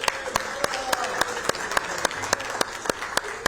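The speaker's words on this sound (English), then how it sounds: "big round of applause for Jenna." Audience at a live weather-themed conversation show gives a round of applause, heard as sparse, evenly spaced sharp claps standing out over a steady murmur of room noise and faint chatter.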